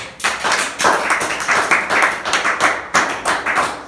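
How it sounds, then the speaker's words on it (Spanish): A church congregation claps together in steady rhythmic unison during a worship service, the beats loud and close, each about a third of a second apart. No voices are heard. "Vamos a aplaudir a Dios."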